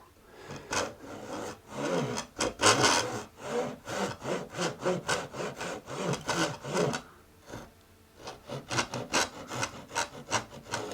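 A hand saw blade cuts into a wooden guitar neck in a series of close back-and-forth rasping strokes, rhythmic and even, with a short pause partway through before the strokes resume.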